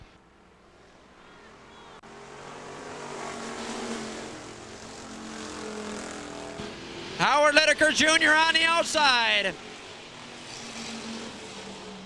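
Factory stock race cars circle Hartford Speedway on the final lap, a continuous engine drone beneath an announcer calling the race, with a brief loud burst near the end.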